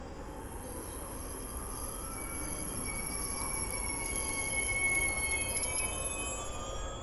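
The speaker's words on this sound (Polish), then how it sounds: "melduje się Pendolino do Gdyni Głównej, opóźnione kilkanaście minut" A delayed Pendolino express bound for Gdynia Główna rolls into Warszawa Zachodnia station, a steady rumble building and holding with high metallic wheel squeals and whines above it before fading.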